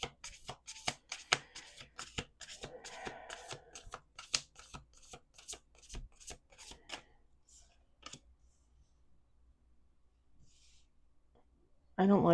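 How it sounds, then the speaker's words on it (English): A deck of cards is riffled and shuffled by hand, with a run of crisp, rapid flutters in quick bursts over the first eight seconds, followed by near silence. "Let's do two more shuffles."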